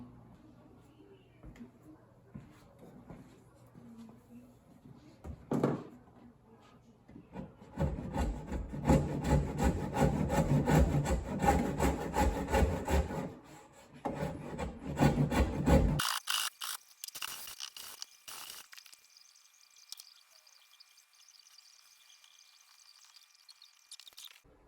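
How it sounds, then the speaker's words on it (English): Wood is sanded smooth with a hand-driven, rhythmic rasping scrub that comes in bursts of back-and-forth strokes, close and fairly loud, with softer handling noises and a brief higher scraping toward the end. "So I went ahead and I sanded this smooth"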